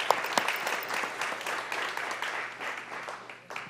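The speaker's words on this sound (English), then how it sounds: "So give a hand clap to all of our presenters here this morning." Audience at a panel on social movements claps for the morning's presenters, a steady, full round of applause from a crowd that holds at even strength throughout, with a few sharper claps standing out near the start.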